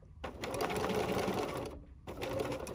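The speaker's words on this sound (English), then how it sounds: "I'm now going to go back to my straight stitch, and now I'm going to do my little antenna" A sewing machine straight-stitches a small butterfly antenna on a quilted basket, running in two close bursts of rapid, buzzing stitches separated by a brief pause, with no talk.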